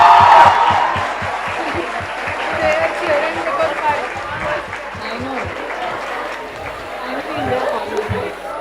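A seated audience at a medical college quiz event claps for the prize winners, rhythmic applause with some cheering and chatter, steady and near before tapering slightly.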